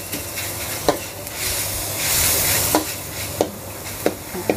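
Minced pork stir-fries for Thai basil pork, a steady sizzle broken by repeated scrapes and knocks of a spatula against the pan at a loose rhythm, close and loud with no voices.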